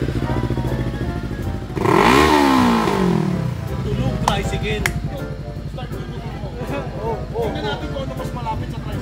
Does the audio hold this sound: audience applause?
no